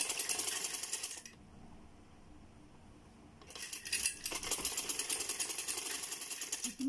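A sewing machine stitches the edge of trouser pleats in a fast, steady whirring rattle, stopping for about two seconds before starting up again, loud and close.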